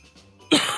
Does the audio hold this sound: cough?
yes